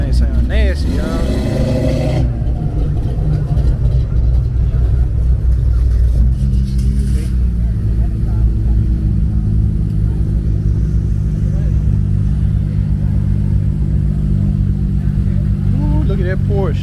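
Car engines rumble and rev steadily throughout at a Cars and Coffee car show, loud and close, with a sharp higher burst early on and people talking over the engine noise.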